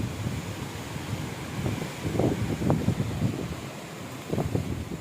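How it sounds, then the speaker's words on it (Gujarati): Strong storm wind buffeting outdoors, low roaring gusts that rise and fall in surges, loud and close with heavy rumbling against the microphone. "વાવાઝોડું આવ્યું, જોવો પવન જોવો બધા."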